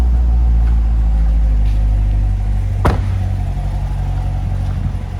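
A 2019 Corvette Grand Sport 2LT with automatic transmission idles outdoors with a deep, steady rumble and a faint sharp click partway through, loud and close with no talking.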